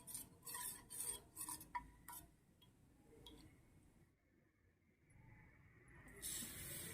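A spoon stirs cornflour in a bowl, making soft, quick, rhythmic scraping strokes that are faint and close, then trail off into quieter stirring.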